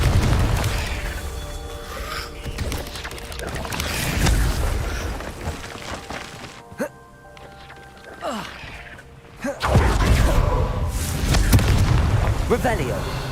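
A Confringo fire spell in Hogwarts Legacy bursts with loud booming blasts and rumbling impacts, dense and forceful, with a quieter stretch midway before another heavy eruption of crackling explosive noise; a voice speaks over it.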